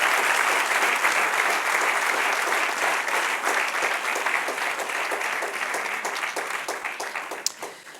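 A church congregation applauds together, loud sustained clapping that fills the whole stretch and tapers slightly near the end, with no voices over it.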